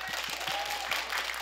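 Quebec cégep talent-show audience gives a short burst of applause while voting on where poutine comes from, steady clapping heard at moderate distance.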